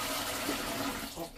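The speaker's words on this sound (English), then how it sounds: "Nice cold water on my feet." Water running from a whole-house water filter system during a filter change, pouring steadily and fairly loud for the whole short moment, with a slight splashing variation near the end.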